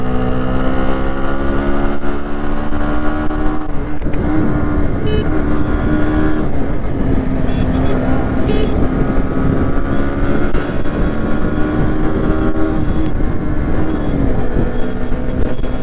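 Honda Shine motorcycle riding along a road on a cold night, a steady loud engine drone with heavy wind rush throughout, occasional shifts in pitch as it moves.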